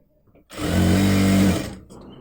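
A sewing machine stitches along a folded hem of nighty fabric in one steady, loud motor-driven run of about a second, starting abruptly and trailing off into quiet room noise.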